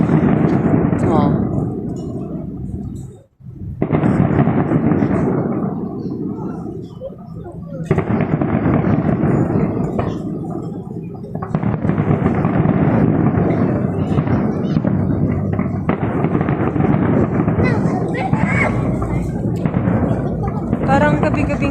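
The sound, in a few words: fireworks exploding for Eid al-Fitr celebration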